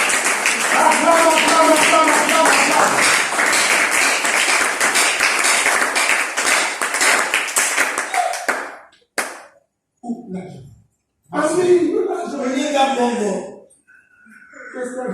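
A church congregation in Brazzaville claps rhythmically to acclaim the Lord Jesus, steady loud clapping under singing voices, then broken bursts of claps with speech and pauses.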